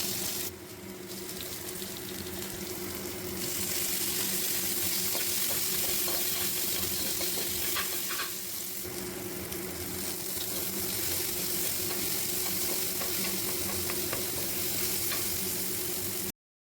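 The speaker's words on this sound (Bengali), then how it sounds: "কড়াইয়ে তেল গরম হয়ে গেলে তার মধ্যে দিয়ে দিতে হবে 5 ফোড়ন, আর একে একে কুচিগুলো দিয়ে দিতে হবে।" Whole spices, then chopped ginger, garlic and tomato, go into hot oil in a wok and fry with a steady, close sizzle that stays loud throughout, with occasional stirring scrapes.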